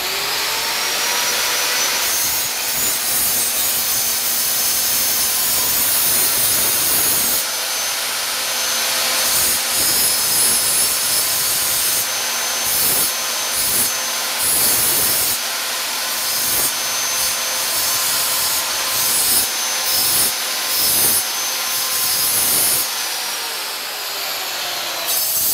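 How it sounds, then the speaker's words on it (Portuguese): A marble saw (angle grinder with a stone-cutting disc) runs continuously while sharpening a utility knife blade, a loud, steady high-pitched whine with gritty rasping as the blade is pressed and drawn across the disc in repeated passes. "vou ligar minha serra mármore"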